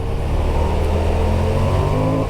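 A Honda XL750 Transalp on road-oriented dual sport tyres accelerates along a gravel road, its engine a loud, steady drone with a rising rev, heard close with wind and no voices.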